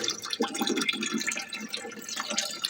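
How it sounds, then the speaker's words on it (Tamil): Water poured through a fiber filter set inside a cut-open water can while cleaning a fish tank, a steady close trickle and splash with bright splattering throughout, no voices. "இதை நம்ம இப்படி ஊற்றினோன்னா எதுக்குமே கலங்கள் இல்லாமல் ஃபில்டராகவே வரும்"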